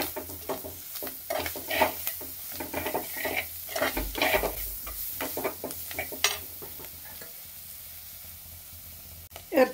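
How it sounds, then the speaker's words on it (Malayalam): Crushed onion fries in a pan for a pork fry, giving a quiet, steady sizzle broken by irregular scraping and stirring clatter from a utensil against the pan. "ഉള്ളി ചതച്ചത് ഇടുകയാണ്."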